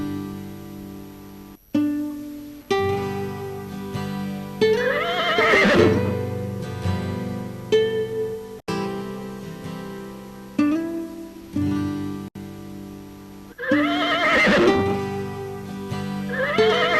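A horse tied to a tree neighs and whinnies, loud and close, in two drawn-out bursts over a musical background, with faint hoof clip-clop.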